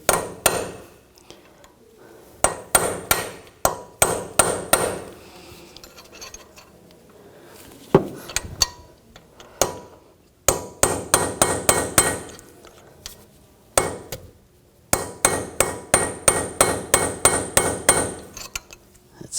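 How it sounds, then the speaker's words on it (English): A hammer strikes a chisel or punch to peen an axle nut over the notches of the axle, on a rear wheel hub of a 2000-2006 BMW X5. The sharp metallic blows come in several quick bursts separated by pauses, close and loud. "Now take a chisel or a punch and just where the nut, where there's little notches on the axle,"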